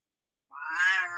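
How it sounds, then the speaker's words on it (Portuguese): A single small kitten lets out one clear, drawn-out meow, close to the mic, with silence before it. "Vamos parar de miar?"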